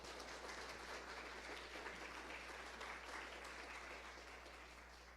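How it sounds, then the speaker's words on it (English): An audience at an aerospace workshop gives a thank-you applause to a speaker, heard as a steady, full wash of clapping that holds throughout and tapers slightly at the end, with a low hum underneath. "we would like to give you an applause"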